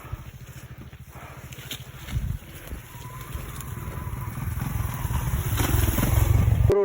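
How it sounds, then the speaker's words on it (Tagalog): A motorcycle engine drones along a rural road near Lake Holon, rising steadily louder as it approaches, with wind buffeting the microphone. "may nakamotor"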